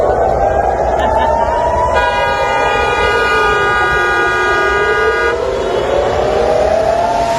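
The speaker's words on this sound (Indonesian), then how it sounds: "Suara sirine tanda peringatan terdengar di sejumlah titik di Tel Aviv." Air raid warning sirens in Tel Aviv, a loud rising and falling wail with a second tone layered on for several seconds, under traffic-like background noise and some voices.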